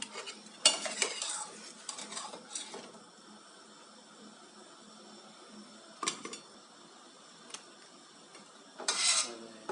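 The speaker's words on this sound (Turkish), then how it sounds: "hemen yandaki servis tabağıma lokmalarımı çıkarıyorum" Fried lokma dough balls being lifted out of oil onto a serving plate, with brief metal clinks and scrapes of a utensil separated by quiet stretches of faint background hiss.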